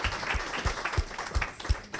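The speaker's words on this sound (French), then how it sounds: "on peut vous applaudir pour votre présentation." Applause from an audience after a business presentation, with scattered individual claps rising above a thin wash of clapping, fairly light and uneven over a couple of seconds.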